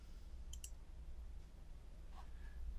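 A mouse selecting a menu option gives a quick pair of faint clicks, then a softer single click shortly after, over a quiet low hum.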